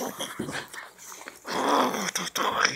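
Two dogs whimper and growl in short, uneven bursts close by, while a person talks to them in a coaxing voice.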